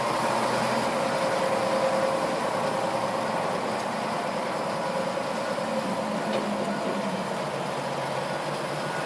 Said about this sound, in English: He's going to lift that bucket way up.